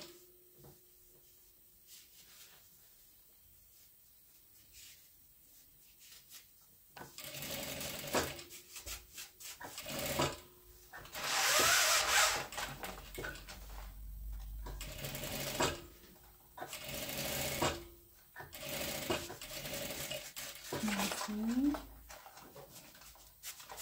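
A sewing machine stitches fabric seams about 1.5 cm from the edge, running in loud bursts of varying length separated by short pauses, with quieter handling sounds in between.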